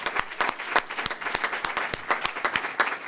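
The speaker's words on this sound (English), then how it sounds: "Let's give him another round of applause." An audience at a religious lecture applauds, with scattered, uneven hand claps of moderate loudness and no talking over them.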